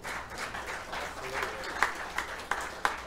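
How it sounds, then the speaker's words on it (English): Audience applause at a live music show at Bob's, fairly soft and continuous with a few louder individual claps near the end. "another round of applause for her"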